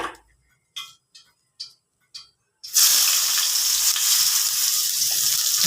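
Ginger hits hot oil in a pan and sizzles, loud and continuous, after a few short clicks of a gas stove igniter; cooked for a coconut-milk milkfish dish.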